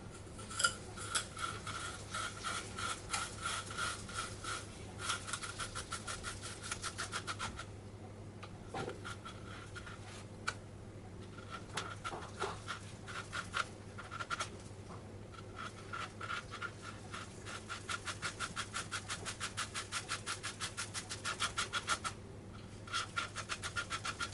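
A foam DLG glider wing is drilled and hollowed out with a small tool, giving rapid rhythmic close scraping and grinding strokes that continue steadily with short pauses.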